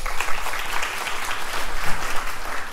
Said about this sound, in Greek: θέλω και το θερμό σας το χειροκρότημα, Αθανάσιος Κόρτας,